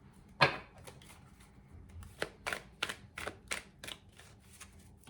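Quiet papery riffling and soft taps of tarot cards being shuffled, in short irregular bursts close to the microphone.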